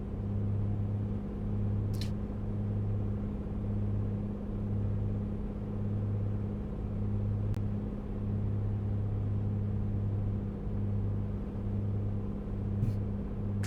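A steady low engine drone from an aircraft in Microsoft Flight Simulator 2024 on approach to Lashkargah, Afghanistan, holding even and continuous with a faint pulsing hum throughout, no clear rise in power.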